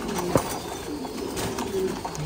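Pigeons of the Yên Thái breed cooing in a coop, low throaty coos repeating several times at close range over a steady background hum.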